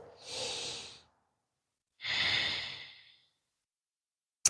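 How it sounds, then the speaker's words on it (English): Slow yoga breathing in a gentle beginner session, two long airy breaths, a drawn inhale then a fuller exhale, close and alone with a pause between. "One more cycle of breath."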